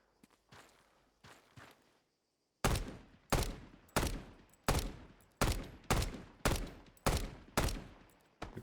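Gunfire in the Arma 3 game: a few faint shots at first, then a fast run of eight loud, evenly spaced rifle shots, each with a sharp crack and a short decaying tail.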